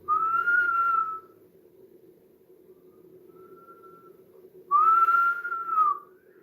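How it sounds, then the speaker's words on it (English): Two sustained whistled notes from a person, each about a second long and separated by a quieter gap, heard clearly over a low background hum. "Hear someone whistling?"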